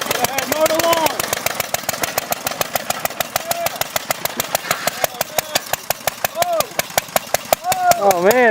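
A small lawn mower engine runs with a rapid, even putter of firing pulses, close and steady, while people talk and exclaim over it throughout.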